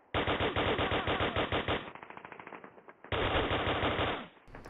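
Enemy machine-gun fire in Call of Duty on the Nokia N-Gage: loud, rapid bursts of automatic shots, a dense volley, a brief quieter stretch of lighter rattling, then another full burst that cuts off abruptly.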